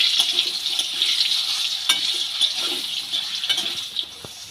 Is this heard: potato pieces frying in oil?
yes